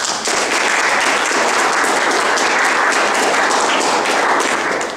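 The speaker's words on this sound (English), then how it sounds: "please give them a big applause" A seated audience at a book event gives sustained, steady applause for the presenters, a dense even wash of clapping that holds at full strength throughout.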